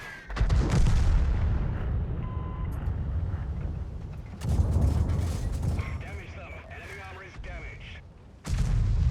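Heavy tank cannon blasts and engine rumble in World of Tanks, with a Covenanter and KV-2 in play, loud booming bursts recurring amid battle noise while someone talks.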